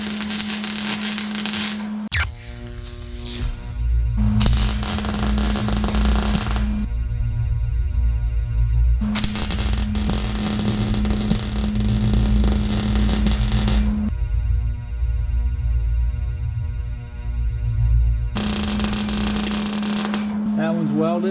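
Light fixtures being welded onto a dump truck, heard as several sustained bursts of crackling, buzzing arc noise over a steady electrical hum, separated by short pauses.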